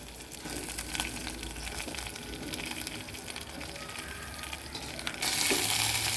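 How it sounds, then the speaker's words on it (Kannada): Chopped Totapuri raw mango frying in a hot tempering for mango saaru, a continuous close sizzle with stirring clatter, growing louder and brighter near the end. "ಇದು 1 ನಿಮಿಷ ಹೀಗೆ ಫ್ರೈ ಆಗಲಿ"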